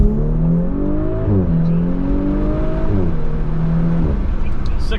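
An Audi B9 S4 launches hard under launch control, with the engine climbing through gears in rising revs and quick shift drops, loud and close from inside the cabin.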